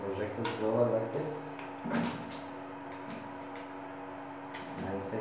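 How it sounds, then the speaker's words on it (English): A projector's drawer slides shut with a short scraping thud near the start, followed by a steady mechanical hum and a faint click toward the end, with speech-like sound early on. "And now put it on the projector's drawer like this."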